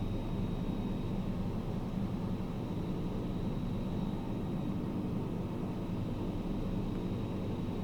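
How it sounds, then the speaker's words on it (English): A steady, droning airplane engine hums in the cockpit during a bush flight in the video game Microsoft Flight Simulator, continuous and fairly loud with no talk over it. "Ignore the plane flying directly overhead."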